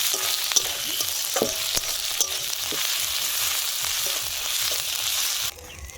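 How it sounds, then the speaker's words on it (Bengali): Ginger-garlic paste sizzling steadily in hot oil with browned onions in a village kitchen pan, a dense close crackle broken by a few sharp stirring scrapes, quieter in the last half second. "আদা রসুন বাটাটাকে এবার লাল লাল করে ভালোভাবে ভেজে নেবো।"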